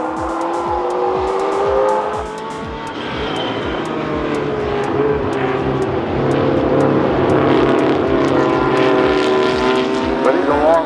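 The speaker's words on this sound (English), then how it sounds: "going back out on track." A vintage Porsche race car drives on track at Rennsport Reunion IV, its engine droning and shifting pitch as it passes, heard under continuous commentary.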